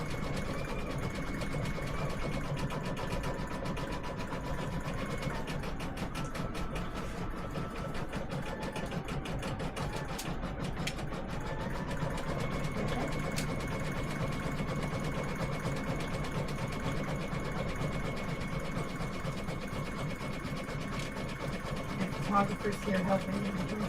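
An embroidery sewing machine stitches a tea towel, running in a steady, continuous mechanical whir throughout, with a voice talking over it at times.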